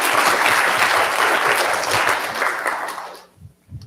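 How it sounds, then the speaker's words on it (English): A TEDx audience applauds loudly and steadily for about three seconds, then the clapping fades out quickly, leaving a couple of faint sounds. "Another round of applause."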